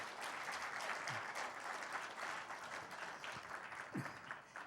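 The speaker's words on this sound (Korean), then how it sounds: "박수를 부탁드립니다." Audience claps after a presentation of a national advancement index at a foundation's tenth-anniversary event, a continuous wash of many hands heard at a moderate distance.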